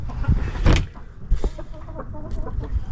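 A few short clucks and squawks from chickens in a backyard coop with roosters, close by and scattered over a quiet background with soft knocks and rustling.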